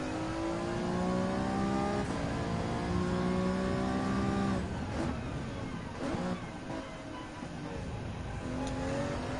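Racing car engines in Gran Turismo 7 around a 1989 BMW M3 Sport Evolution, loud sustained revving with rising pitch sweeps and gear shifts, several cars droning together close by, no talking.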